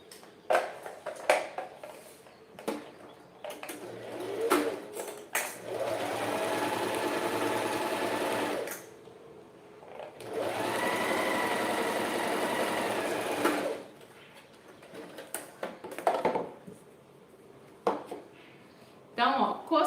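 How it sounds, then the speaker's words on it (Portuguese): A domestic sewing machine stitches a fabric wine holder in two separate bursts of several seconds each, with backstitching at the start and end of the seam. Clicks, handling knocks and faint low voices fill the gaps between runs. "eu vou costurar com um pé de máquina, arrematando no início e no fim"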